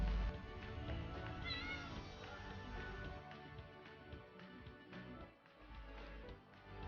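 Kittens meow faintly over a steady low background hum outdoors while palmyrah fruit is prepared, a couple of thin, high cries near the start and no talking.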